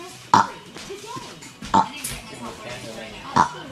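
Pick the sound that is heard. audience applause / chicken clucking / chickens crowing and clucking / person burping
person burping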